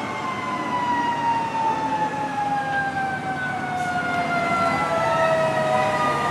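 Several emergency vehicle sirens wail together on a city street, loud and continuous, their tones sliding slowly downward over a rumbling road and traffic background.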